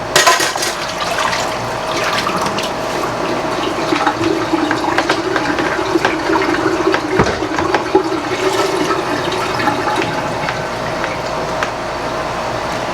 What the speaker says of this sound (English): See what that does to my cloth when I wash those lids?